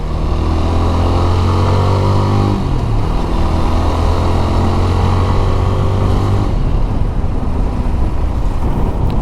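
A GPX Demon motorcycle engine hums steadily up close while riding through narrow lanes, its pitch shifting as it changes speed, with the drone cutting out briefly before picking up again.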